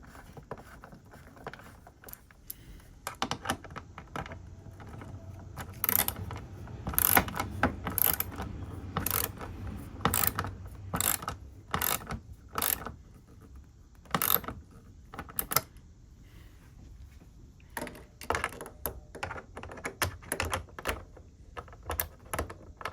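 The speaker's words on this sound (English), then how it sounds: "Just get these in hand tight and then snug them down with the ratchet." A ratchet snugs down the bolts on a BMW R1250 GSA air filter housing, giving a steady run of sharp, close mechanical clicks in short bursts with brief pauses between strokes.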